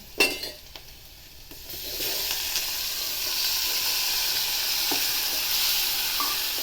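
Tomatoes and chopped green chillies are sautéed in a pan for a Kathiyawadi sev tameta curry, a steady frying sizzle with a few utensil scrapes and clinks near the start, heard up close with no voice.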